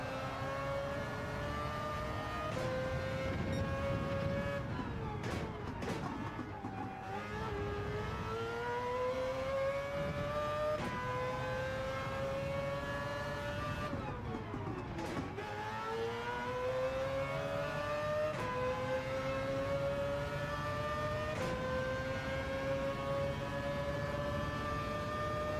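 The Mazda RX-Vision GT3 Concept race car in Gran Turismo 7 drones along, its engine pitch climbing through gears with repeated sharp drops at shifts, steady and loud throughout the lap.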